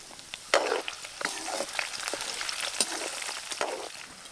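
Green chillies drop into hot oil in a pan for tamarind pulihora, bursting into a steady close crackle and sizzle with scattered pops and stirring scrapes.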